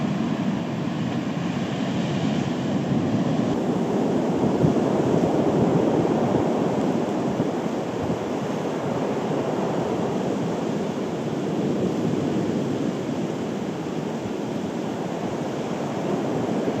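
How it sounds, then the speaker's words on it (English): Wind blowing outdoors beside a river at Glenlough in Donegal, a steady broad roar and rush that holds for the whole span, loud and close, with no voices. "You can probably see that the wind's got up a wee bit."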